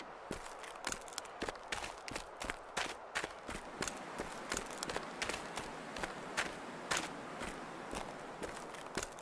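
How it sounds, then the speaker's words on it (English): Footsteps crunch steadily across ice in the video game The Long Dark, with an even walking rhythm of sharp, brittle impacts over a soft background hiss. "It almost sounds like this ice is gonna break."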